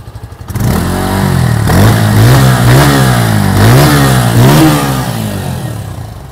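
Bajaj Pulsar N150 motorcycle engine, a 2023 model, revved repeatedly while standing, loud and close, with several rising-and-falling throttle blips over a steady idle and no talking.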